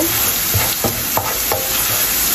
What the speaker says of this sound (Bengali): এখন এটা রসুনটা একটু ব্রাউন হবে